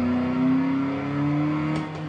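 Simulated car engine in a driving game revving as gears shift, a steady rising whine that drops briefly near the end as the next gear is matched, close and loud with no talking.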